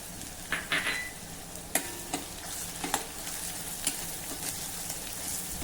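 Onion, crushed ginger, garlic and green chili sauté in hot oil in a pan for a Varhadi-style tempered dal. A constant close sizzle runs throughout, with repeated scraping and clinking of a spatula stirring.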